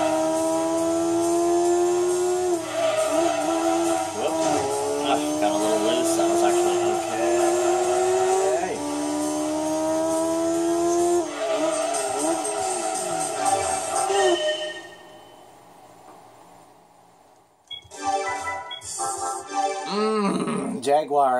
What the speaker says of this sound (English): Alpha 155 touring car. This car sounds so nice. Oh, listen to that, you guys.